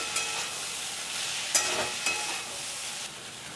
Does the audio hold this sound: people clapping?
no